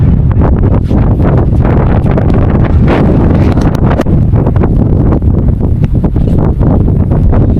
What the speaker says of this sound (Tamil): காற்று வந்து பார்த்திங்கன்னா ரொம்ப தள்ளுதுங்க.